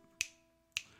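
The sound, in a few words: fingers snapping twice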